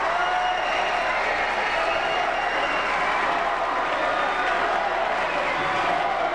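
The La Follette crowd at a 1994 boys' high school basketball sectional final against Tomah roars in a steady, loud wash of cheering and clapping that fills the gym, with an announcer talking faintly beneath.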